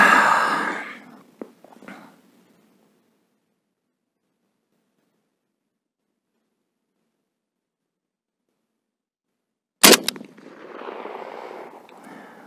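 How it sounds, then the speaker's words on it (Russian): A single sharp rifle shot fired at a target through an EOTech Vudu 1-6x24 scope cracks out loud after a long silence, followed by rustling handling noise; a brief sigh-like breath comes before it. "делаю первый выстрел в черную точечку"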